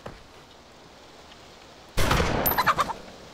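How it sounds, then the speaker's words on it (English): A chicken in the DayZ survival game squawks in a sudden loud burst after a quiet stretch, with a few sharp fluttering cries near the end. "I don't want to shoot a poor innocent chicken."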